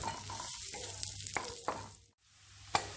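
Salt and spices sauté in a hot pan with a steady close sizzle and occasional stirring scrapes, then a brief lull before the frying hiss resumes.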